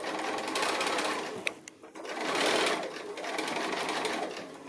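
A sewing machine stitching a quarter-inch seam on a fat quarter fabric cushion runs in fairly close bursts of rapid whirring, pausing briefly with small clicks before starting up again.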